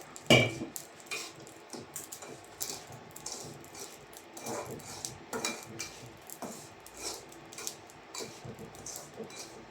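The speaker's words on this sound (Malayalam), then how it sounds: "ഇനി നമുക്ക് റവ നന്നായിട്ടൊന്ന് വറുത്തെടുക്കാം മീഡിയം ഫ്ലെയിമിൽ വെച്ചിട്ട്" A spoon scrapes and taps against a pan in quick, uneven strokes while semolina roasts over medium flame, a soft, close stirring sound with light metallic clinks.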